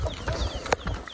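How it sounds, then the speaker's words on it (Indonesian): Ducks on a small farm make short clucking quacks and squawks close by, several overlapping calls with one sharper cry standing out. "Ini bebek-bebeknya sudah mulai beradaptasi di sana."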